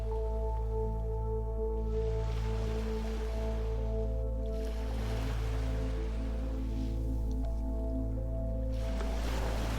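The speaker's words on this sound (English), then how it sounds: "Can you hear the difference in the waves?" Ocean waves wash in and recede in slow, soft surges beneath a steady low hum, at a moderate distance and without speech.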